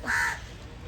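A single loud crow caw, harsh and nasal, rising sharply then trailing off, with quiet outdoor background afterward.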